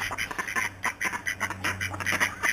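Ducks at a lake quack in quick, uneven bursts, several calls close together and fairly near, with a low steady hum underneath.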